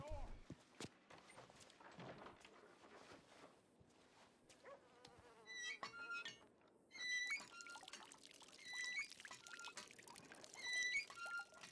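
Water pouring in RedM on the WildRP roleplay server, a broad splashing stream near the start, with insects buzzing and chirping around it and a voice talking throughout.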